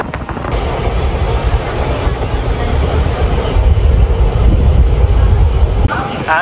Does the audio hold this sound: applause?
no